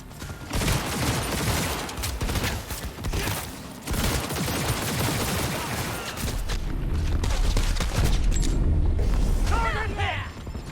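Dense, sustained gunfire from a Cyberpunk 2077 firefight during a vehicle chase, loud and continuous bursts with booms and mechanical clatter, while voices shout over the shooting.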